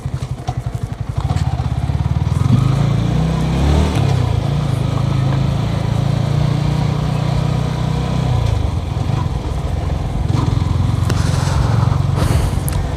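Yamaha R15 v3 sports motorcycle on a track-focused ride, its engine droning steadily and loudly from close by with a low rumble throughout, no talking.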